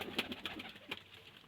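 Pigeons cooing in short soft repeated calls, a few quick throaty coos over a low background hum, moderately close.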